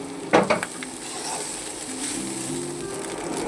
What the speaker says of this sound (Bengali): রাইসটা দিয়ে এবার সব কিছু দিয়ে আমি ভেজে তুলে নেব